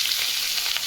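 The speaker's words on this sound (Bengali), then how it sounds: "প্রথমে শুটকি বোনাটা গরম করে নিচ্ছি" Dried fish (shutki) bhuna heating in a pan gives a steady, close hiss of frying and sizzling with no voices.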